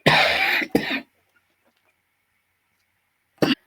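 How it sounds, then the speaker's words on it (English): Two harsh coughs close together at the start, then silence, then one more short cough near the end. "I occasionally have to pause and cough."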